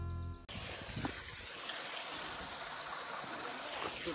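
A small waterfall stream in Nepal rushes steadily, a broad continuous wash of flowing water heard close by after an abrupt start, with no clear talk.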